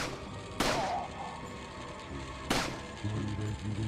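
Two sharp gunshots in the Resident Evil 4 video game, spaced about two seconds apart, loud and close over a constant game soundscape.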